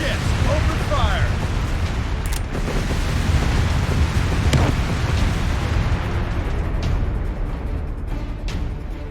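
Naval ship bombardment in the Company of Heroes 3 video game, a continuous roaring wash of distant explosions with sharp blasts cutting through, loud and sustained throughout.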